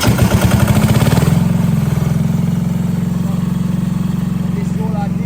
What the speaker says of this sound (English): I'm about to switch the generator back on